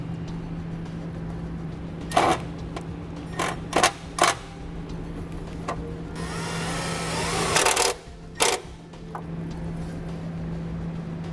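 A power drill drives self-tapping screws while a circuit breaker is mounted on a towed vehicle, with several short whirring bursts, a longer sustained run of driving, then a brief final burst, close up under a steady low hum.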